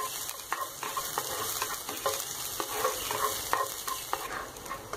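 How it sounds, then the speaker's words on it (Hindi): Finely chopped onion fries in hot oil in a pan, giving a steady close sizzle with repeated scraping stir strokes throughout, no voices. "इसको थोड़ा सा फ्राई कर लेंगे।"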